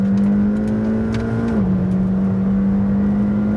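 A McLaren Senna supercar accelerates hard down the straight at Estoril circuit, its engine a loud steady roar heard from inside, pitch climbing then dipping briefly at a gear change before rising again.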